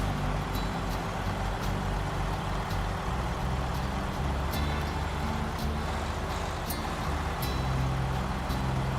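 A Kenworth truck's diesel engine rumbles steadily in the SnowRunner video game, a constant low drone with faint clicks and a brief air-brake-like hiss, no voices over it.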